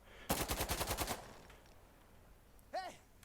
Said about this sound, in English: So if I shoot this gun, you can see it virtually goes straight up